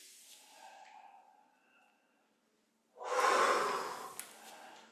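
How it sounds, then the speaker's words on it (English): Deep yogic breathing in and out during a chair and standing yoga session: a soft airy exhale, a pause of silence, then a loud, close, rushing breath for about two seconds. "Deep breathing, in and out."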